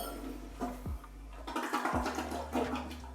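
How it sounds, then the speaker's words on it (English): A toilet flushes in a house being inspected, with a rushing, gurgling swirl of water heard up close and no voices. "Check the toilets, do they flush?"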